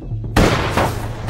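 A single loud gunshot rings out from inside a house in a film scene, a sharp bang after a brief quiet moment, followed by a ringing decay with a low hum underneath.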